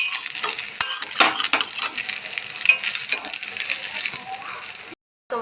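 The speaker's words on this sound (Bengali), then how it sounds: "আর 2 মিনিট দিয়ে নাড়াচাড়া করে আমি নামিয়ে নেব" Pasta being stirred in sauce in a pan, with close scraping and clinking of a utensil over a light sizzle, ending in a brief silence before a short final sound.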